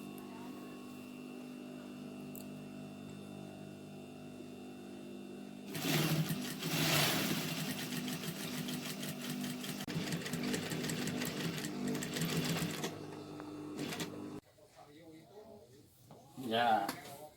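A sewing machine stitches gold lace onto a Dayak Kenyah ethnic costume, whirring rapidly and steadily for several seconds before stopping. Quiet room sound comes before it and a voice follows.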